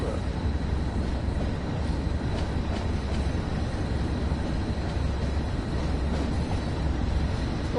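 A class 08 shunter locomotive in Train Sim World 2 gives a continuous low rumbling drone with faint rail clatter, steady and moderately loud throughout with no voices.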